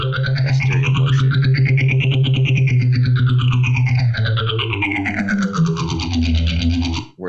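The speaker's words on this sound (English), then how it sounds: "hear a lot of that stereo motion" Synth or effects-processed tones sweep up and down while panning in stereo so the sound seems to circle around the listener. The tone is continuous and loud, with a sustained low drone underneath and no talk.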